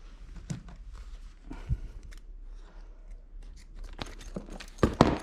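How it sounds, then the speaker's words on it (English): Scissors cutting through plastic packaging for a baby lounger pod, heard as a few close, sharp snips and crinkly cutting sounds with quieter handling rustle between them. No talking. "So let's take off the little bit here with some scissors."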